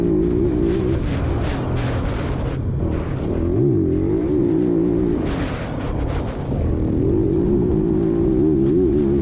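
A dirt bike engine drones and rises in pitch through the gears, revving up then dropping briefly at each shift before climbing again, loud and close throughout with no talk.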